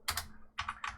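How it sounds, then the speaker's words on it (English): Fingers type a web address into a browser on a computer keyboard, giving short bursts of crisp, close key clicks in three quick groups with no voice over them. "open a new tab, and type"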